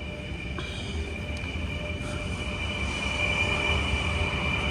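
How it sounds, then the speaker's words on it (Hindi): A freight train rolls past close by near a large railway station in Ulan-Ude, Russia, a steady loud rumble of wagons with a sustained high wheel squeal running throughout, no voices. "मालगाड़ी आ रही है"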